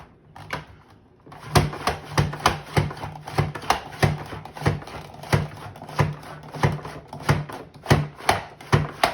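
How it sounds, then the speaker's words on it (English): Vegetables sliced for ratatouille on a Rapid-Prep mandolin into coin-shaped slices, with a steady series of sharp, close chopping clacks repeating about twice a second for several seconds. "I'm just going to apply an even pressure on this side and start chopping"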